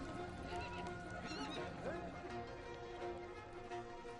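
Horses running in a race in Ikh Khet sum, Dornogovi, Mongolia: repeated shrill neighs and whinnies over a rumbling clip-clop of hooves, with voices talking in the background throughout.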